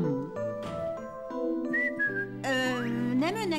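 A person whistles a short run of clear, bright tones, with several sliding pitches and quick rising swoops, heard close and alone for a few seconds.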